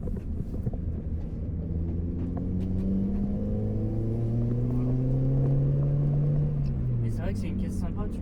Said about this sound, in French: quand tu écrases la pédale, tu as les gaz qui sortent d'un coup, c'est là que ça gueule